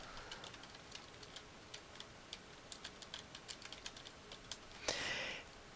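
Soft, quiet keystrokes on a computer keyboard come in a steady, irregular patter of clicks, ending in a brief louder burst of clicking.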